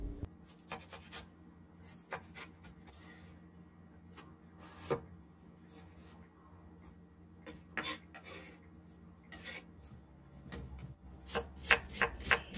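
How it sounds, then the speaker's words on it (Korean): A knife chops softened bracken (gosari) into 5 cm lengths with irregular, crisp taps that come close together in short bursts, clear and up close, with no talking. "한 5cm 간격으로 썰어 주세요"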